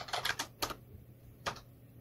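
Keys clatter on a computer keyboard in a quick burst of five soft taps, then one more tap after a short pause, quiet and close with no voices.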